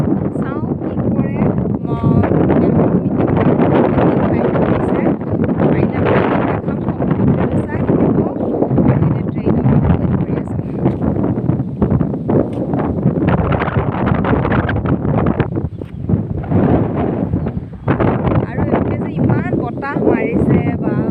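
Strong February wind buffets the microphone on a railway station platform in Guwahati, a loud, constant roaring rumble with gusty surges throughout.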